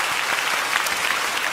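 A church congregation claps during an early-morning autumn revival service at a Korean church, a dense, even burst of applause filling the room, loud and continuous.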